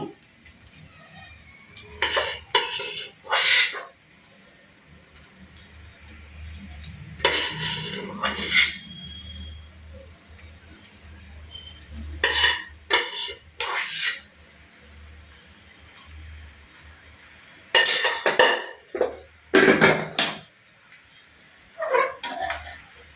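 Cooked rice goes into a pan for egg fried rice, heard as bursts of metal spoon scraping and clanking against the pan, separated by quiet pauses.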